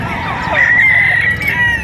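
A rooster crows nearby at a chicken market in Batangas, one drawn-out loud call rising and holding, with faint clucking around it.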